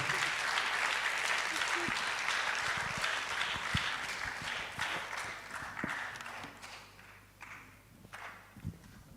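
Sustained applause from an audience at a public medical college lecture, loud and steady at first and thinning out toward the end, with scattered claps and brief voices in the hall.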